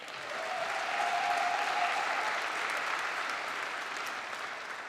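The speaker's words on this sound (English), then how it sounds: "Let us applaud the accomplishment of graduating seniors in the Environmental Science program." Sustained audience applause at a university commencement ceremony fills the room, a dense steady patter of many hands clapping that swells early and then holds at a fairly loud level.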